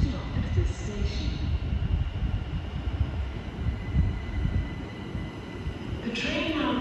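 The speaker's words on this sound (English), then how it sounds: "The approaching train is not scheduled to stop at this station." A Southern Class 377 train runs through Wembley Central station without stopping, making a steady loud rumble of wheels on rails that eases near the end, under a platform announcement voice.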